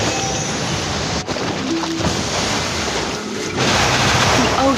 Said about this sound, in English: The ocean waves are so soothing.